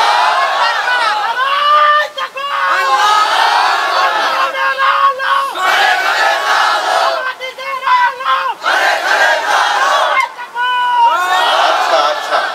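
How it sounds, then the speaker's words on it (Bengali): A large crowd at an Islamic gathering in Dhaka shouts the takbir in unison, loud, repeated chanted waves with brief gaps between each call and response. "তাহলে তাকবীর হয়ে যাক একটা, এক তাকবীরে সবাই দাঁড়াবেন, লিল্লাহে তাকবীর।"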